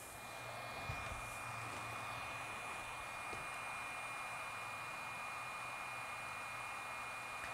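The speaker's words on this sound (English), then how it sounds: "And then I'm going to use my hot air tool." A hot air rework tool on high heat blows a steady, even hiss of air while reflowing solder on an iPhone battery terminal, constant and fairly quiet from start to finish.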